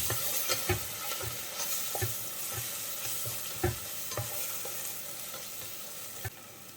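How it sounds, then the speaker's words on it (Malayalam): Crushed ginger and garlic sauté with onions in a pan, a steady low sizzle broken by regular spoon stirs and scrapes roughly every second, close and moderately loud with no talking. "അതിൻ്റെ പച്ചമണം മാറുന്നത് വരെ ഒന്ന് വഴറ്റിയെടുക്കാം"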